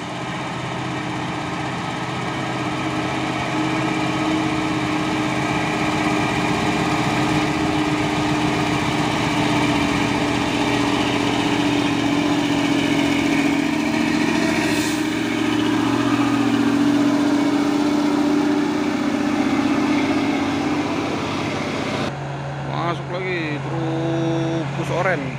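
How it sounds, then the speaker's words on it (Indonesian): A Fuso dump truck's diesel engine runs steadily and fairly loud at a barge loading site, a continuous rumbling drone with a brief change in tone near the end. "Dan ada juga dam truk Puso."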